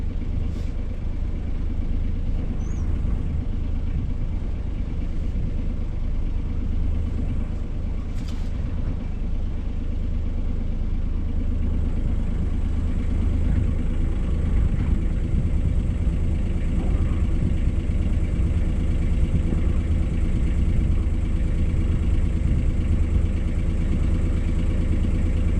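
A boat engine idles and turns the boat around while leaving Mackinac Island State Harbor at nightfall. The low, steady rumble runs close and unbroken throughout, with no voices.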